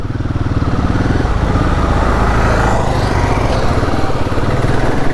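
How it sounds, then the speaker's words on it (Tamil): A motorcycle engine runs loud and close, a steady rumbling drone that holds throughout with no talking. "அப்படியே கொஞ்சம் வண்டி மூவ் பண்ணிவிட்டு உங்கள்கிட்ட பேசுகிறேன்"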